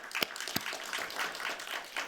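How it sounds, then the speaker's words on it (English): A conference audience at the Harvard XR event applauds quietly and steadily, with a few sharper claps standing out near the start over a soft, continuous patter. "a big round of applause for Jenny and the Harvard XR team for putting together this event"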